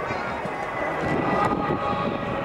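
An Avro Vulcan B2 delta-wing bomber passes overhead at an air show, its engines giving a loud, sustained deep roar that swells slightly midway.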